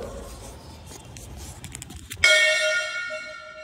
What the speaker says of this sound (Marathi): घंट्याने जोरात वाजवलं